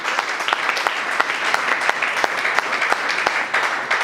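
Congregation at a Sunday church service claps in praise, a dense, lively round of applause with sharp individual hand claps standing out throughout, filling the room without speech.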